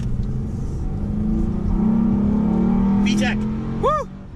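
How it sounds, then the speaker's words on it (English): A Honda Accord engine revs up, its droning pitch climbing as VTEC engages and it accelerates hard, loud and close, with excited voices briefly shouting over it. "You can really hear the VTEC kick in."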